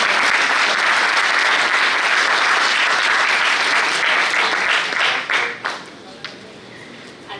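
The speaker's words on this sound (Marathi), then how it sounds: "एकदा जोरदार टाळ्या होऊन जाऊ देत" An audience at a medical anaesthesia workshop breaks into loud, dense applause that holds for about five seconds, then thins out into a few scattered last claps and fades.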